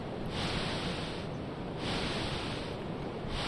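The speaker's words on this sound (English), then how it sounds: "We can hear the waves of the ocean." Ocean waves wash onto a sandy beach in an indie screensaver game, a steady broadband roar that swells and recedes in slow surges about every second and a half, close and fairly loud with no voices.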